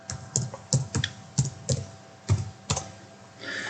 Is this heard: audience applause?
no